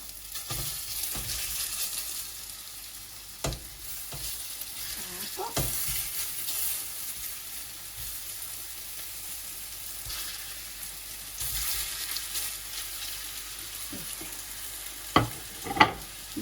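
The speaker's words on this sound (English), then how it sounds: "So now I'm going to cook the meatballs with oil." Bosnian meatballs (cuftice) sizzle and crackle steadily in hot oil in a pan, a continuous close frying hiss with occasional sharper pops and stirring clatters, no voices.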